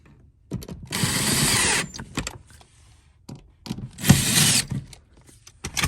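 A power tool runs rear seat bolts down in a BMW E90, two loud sustained buzzing bursts separated by quiet clicks, knocks and handling noises close by.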